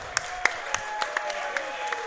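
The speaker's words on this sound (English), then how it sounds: "Applause for Jacob." A small crowd at a live event in a Milwaukee brewery applauds a raffle winner. The clapping is faint and sparse, with about eight distinct claps spread over two seconds against a quiet background.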